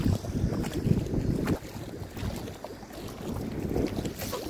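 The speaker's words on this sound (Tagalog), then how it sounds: "Lakas ng hangin," Strong wind gusts across the microphone at sea during a shallow high tide while net fishing from a small boat, a loud steady rush with a heavier burst at the start and no talk.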